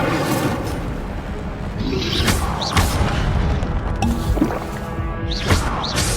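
Incendio fire spell cast in the video game Hogwarts Legacy, heard as loud whooshing blasts with booming bursts and crackling over a continuous game soundscape.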